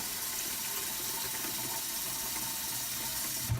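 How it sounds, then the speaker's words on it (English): A kitchen sink tap runs water into a pot for macaroni and cheese, a steady, quiet hiss and rush of filling water with no voices. "We just open it up and fill it almost to the top with water."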